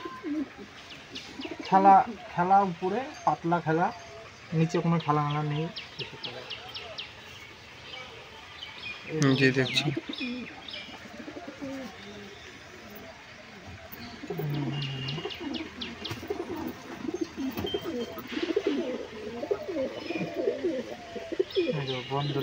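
Deshi Giribaz pigeons, including a female, coo repeatedly in throaty bursts close by, with someone talking intermittently over and between the calls.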